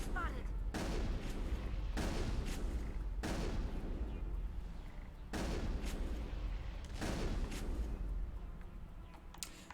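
Heavy weapon fire from a rocket launcher in the sci-fi video game Mass Effect: four loud, booming blasts at a steady pace over a constant rumbling battle bed, with no talking.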